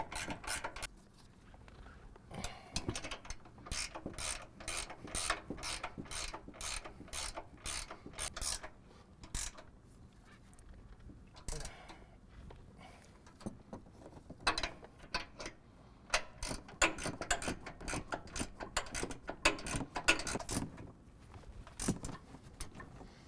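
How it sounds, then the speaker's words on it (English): An 18 mm ratchet tightens strut top hardware on a 2024 Ford F-150 in fast runs of crisp, close clicks, pausing briefly between bursts, with no talk over them. "we're going to tighten this hardware at the top of the strut to 35 foot-pounds, also using 18 millimeter"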